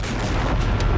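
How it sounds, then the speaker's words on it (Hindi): A deep, rumbling blast with heavy low booming that fills the moment, loud and noisy, like a large explosion heard from fairly close, as a Merkava tank is attacked in combat. "चंद सेकंड के बाद होता है बड़ा धमाका।"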